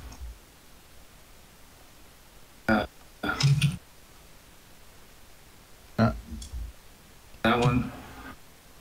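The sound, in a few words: a burp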